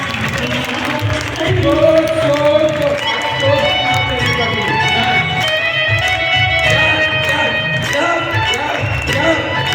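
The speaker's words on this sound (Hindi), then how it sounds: "तालियां तालियां तालियां" An audience at a motivational business gathering claps and cheers steadily, a loud, dense crowd sound with voices mixed in throughout.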